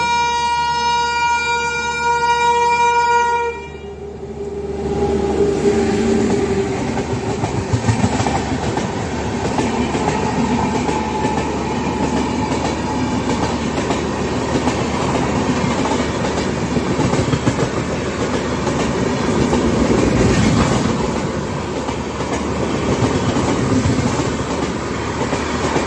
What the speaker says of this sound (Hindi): पुणे बिलासपुर सुपरफास्ट एक्सप्रेस, ये अभी क्रॉस होंगी यहाँ से